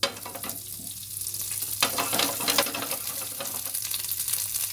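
Curry leaves frying in hot sesame oil make a loud, steady crackling sizzle close to the listener, with a sharper burst of spitting partway through and no speech.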